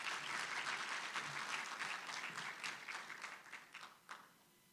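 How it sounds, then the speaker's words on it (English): Audience applause at the opening of a formal gathering, a dense crowd of clapping hands that holds steady, then thins and fades out near the end. "Let's give him a good round of applause."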